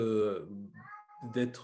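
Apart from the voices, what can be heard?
cat meowing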